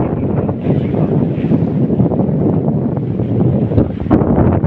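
Strong wind roars steadily across the microphone with constant buffeting and rumble, loud throughout with no voices.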